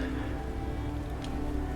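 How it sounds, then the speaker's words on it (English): Steady, dense rain hiss from the video game Planet Crafter fills the scene, a continuous close wash of falling drops with no voices. "as we just listen to the peaceful rain"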